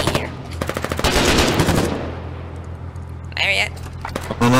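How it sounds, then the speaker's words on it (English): A machine gun fires in the war video game Foxhole in quick bursts of rapid shots, loud and close at first, followed by scattered later sounds, with a player talking over parts of it. "I have a machine gun."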